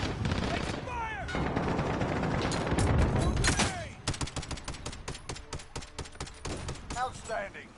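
Rapid gunfire bursts in Call of Duty Modern Warfare, loud and dense, crackling over a busy game mix with voices talking, then sparser sharp shots in the second half.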